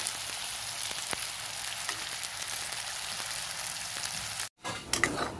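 Jackfruit seed curry frying and being stirred in a pan, a steady soft sizzle with occasional scraping stirs, briefly cut off near the end before resuming.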